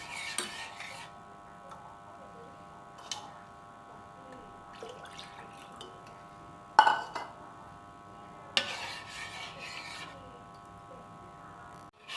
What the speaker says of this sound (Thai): คนแค่พอให้น้ำกะทิกับ น้ำตาลทราย แล้วก็ผงวุ้นเข้ากันก็พอได้เลยค่ะ